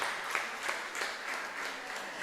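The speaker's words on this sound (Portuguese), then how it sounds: "Uma salva de palmas." A church congress crowd gives a round of applause, a quiet, distant, continuous patter of many hands with slightly rhythmic swells and no voices.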